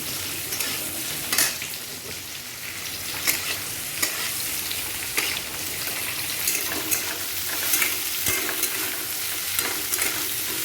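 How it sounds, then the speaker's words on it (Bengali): Pointed gourd fries in a pan at home for dinner, giving a continuous close sizzle with regular scraping and stirring knocks and a few sharper clicks, no talking. "শুধু ভাজা হয়ে যাক, তারপরে আমি মশলা দিয়ে দেবো।"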